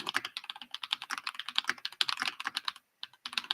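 Quick, irregular clicking of keys on a computer keyboard, close and steady with a brief pause near the end, and no voices.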